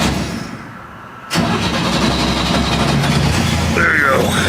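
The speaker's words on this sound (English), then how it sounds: "Car should fire up." A Hudson Hornet car engine cranks and catches with a sudden roar, then settles into a steady idle.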